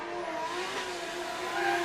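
Toyota JZX100 drift car with a 700-horsepower nitrous-fed 1JZ engine at a British Drift Championship round on Teesside, roaring loud and steady as it holds a drift, with high engine tones sustained throughout.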